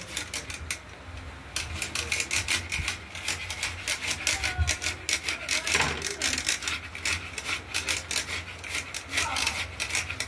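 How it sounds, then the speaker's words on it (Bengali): Raw papaya is scraped against a hand grater in a kitchen, producing close, rhythmic rasping strokes that repeat steadily with brief pauses between bursts. "এরপর এগুলোকে ঠিক এরকম পোড়ানি দিয়ে আমরা কুড়িয়ে নেব।"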